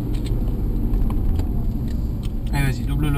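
A car accelerating on the Château Gaillard race circuit, its engine a steady, loud in-car rumble throughout, with an instructor talking over it.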